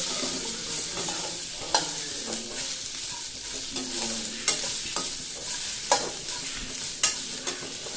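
Peeled onions sautéing in a pan for a home-cooked chutney, a steady close sizzle with repeated scraping and stirring knocks from a spoon.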